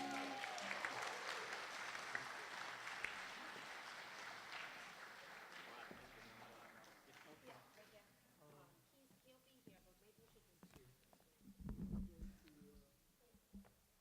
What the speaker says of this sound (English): Let's give another round of applause to Rod.